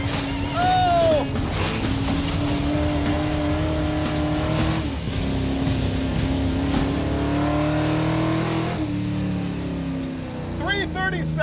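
Roadkill project car revving and accelerating hard while racing a 2015 Subaru Legacy, loud close engine drone with pitch rising and falling through gear changes, and excited voices and shouts over it.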